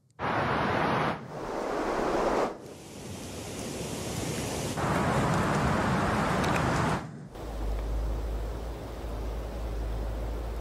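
Windy forest ambience: gusty wind roars in broad surging waves, rising and dropping in loudness, with a low rumble toward the end; no voices.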